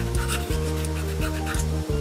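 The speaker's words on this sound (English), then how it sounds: "Now I'm just gonna sand this." Sandpaper is worked by hand over a wooden recurve bow riser in a steady back-and-forth rasp, close and continuous, with a low hum running underneath.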